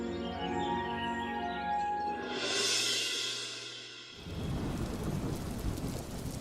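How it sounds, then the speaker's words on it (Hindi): Cartoon-story storm: heavy rain falls steadily while a deep roll of thunder swells and fades, then dense, loud rainfall pours on alone. "चारों तरफ बारिश बढ़ती जा रही है, भीग कर बुखार हो जाएगा।"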